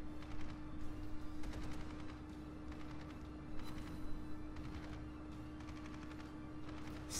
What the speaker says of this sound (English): His AA batteries are working him over.